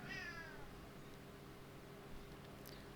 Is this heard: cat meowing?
yes